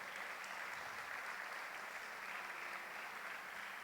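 Church congregation applauding steadily, a dense even wash of clapping with no breaks, faint and distant throughout.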